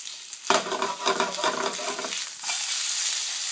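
Bacon sizzles and crisps in a hot pan, a steady close crackling hiss that swells and carries on unbroken with no one speaking.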